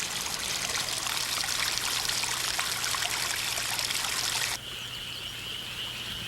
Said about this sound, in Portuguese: E os campos são inundados com a água.